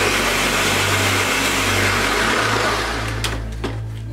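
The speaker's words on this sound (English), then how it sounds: "So I'm just gonna blend them until they're soft and you know it becomes a sauce." A blender purées tomatoes into sauce, running loudly and steadily up close, its motor droning with a churning whir, then winds down near the end.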